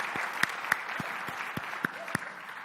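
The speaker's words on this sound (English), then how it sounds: "Give yourselves a round of applause." An audience at a corporate sales conference claps together, a steady broadband patter with a few sharper individual claps standing out, moderately loud and sustained throughout.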